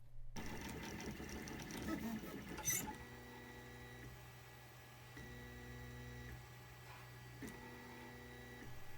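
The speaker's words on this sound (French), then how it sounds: "l'impression du cube a duré environ 40 minutes" Arduino-controlled 3D printer printing a PLA cube, giving a steady mechanical hum with repeated whirring stepper-motor passes that rise and fall in regular bursts, close and fairly quiet.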